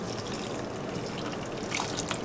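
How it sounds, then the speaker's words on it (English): Cooking liquid from cooked vegetables pours through a strainer, a soft continuous trickle and splash of water with a brief brighter gush near the end. "Time to strain out the veggies."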